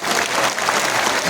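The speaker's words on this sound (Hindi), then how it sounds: "एक बार जोरदार ताली।" Loud, dense applause from a large crowd at a political rally in India, a steady wash of clapping filling the whole short moment without any voices standing out.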